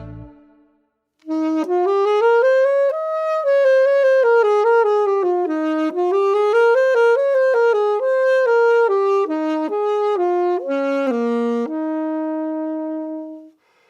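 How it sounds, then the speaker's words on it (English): An antique saxophone built by Adolphe Sax in the 1860s plays a flowing melodic phrase, rising and falling with smooth reedy tone, close and solo, ending on a held note. "This is the sound of a saxophone made by Adolf Sax himself in the 1860s."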